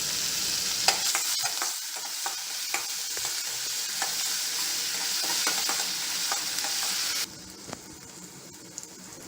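Chopped onion and curry leaves sauté in a hot pan for a kootu, giving a steady close sizzle broken by repeated scraping stirs, with the frying hiss dropping off sharply near the end.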